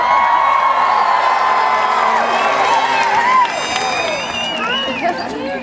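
A large high school graduation crowd at the James Logan High School class of 2012 commencement cheers, whoops and shouts loudly, with scattered applause and shrill voices rising and falling throughout.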